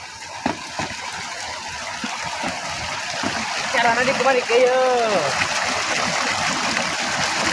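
Water splashes from a spout while hands are washed with leaves, a steady gushing stream under continuous talk.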